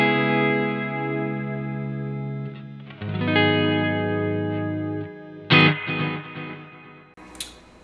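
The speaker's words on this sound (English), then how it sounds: "So you can hear those 2 delays kind of cascading into one another at different rhythms," Electric guitar chords through a Keeley Halo dual echo delay pedal ring out and swell, with cascading repeats blooming around sustained notes, then a few sharper plucked attacks, close and without talk.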